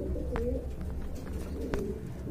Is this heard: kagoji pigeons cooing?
yes